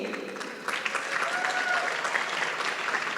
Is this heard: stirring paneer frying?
no